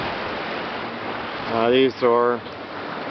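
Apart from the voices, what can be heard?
ocean waves passing a sailboat at sea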